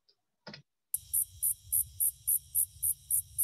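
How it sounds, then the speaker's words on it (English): Singing insects in a marsh pulse together in unison, a steady series of high, loud chirping bursts, about three per second, after a couple of brief clicks and a short silence. "So you hear the space buzzing. They're all doing that in unison."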